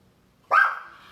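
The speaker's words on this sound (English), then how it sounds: "No more barking." A single loud dog bark, sharp onset then a tapering tail, close by, with quiet before it.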